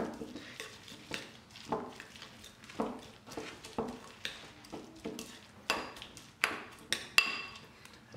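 A spoon clinks repeatedly against a bowl as chopped parsley and chives are mixed into cooked quinoa, giving a steady series of close, light scraping taps.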